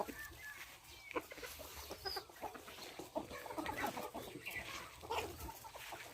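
Chickens raised free-range on a farm cluck and murmur close by, a busy layered patter of calls with occasional louder squawks over faint background noise.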